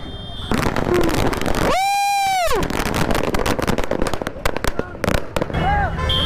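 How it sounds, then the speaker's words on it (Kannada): Rapid firecracker bangs crackle close by during a Ganesh procession in Davanagere, with a rising whistling rocket and people shouting amid the explosions. "ಪಟಾಕಿ"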